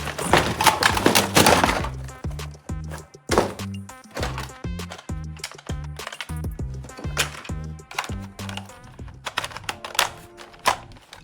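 Toy Nerf machine gun being unboxed: a busy stretch of plastic rustling and packaging handling opens, followed by a steady run of short clicks, taps and thunks of plastic parts, close and fairly loud, with no speech.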